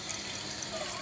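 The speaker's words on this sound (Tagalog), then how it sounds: "Kaya kailangan natin lagyan ng tubig." Water is poured over salted banana blossom to rinse it, giving a steady close splashing and trickling for about a second.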